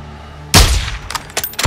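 A single loud, close gunshot from a rifle in Call of Duty: Modern Warfare II, followed by several quicker, fainter cracks and echoes trailing off.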